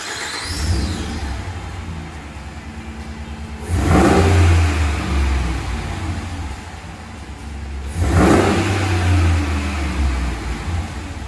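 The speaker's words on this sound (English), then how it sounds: "Doesn't sound too bad for stock exhaust. Still idles quiet, crisp and clean." A 2013 Dodge Ram 1500 on its stock factory exhaust idles with a low rumble, then revs sharply twice, each blip swelling loud and close before settling back to idle.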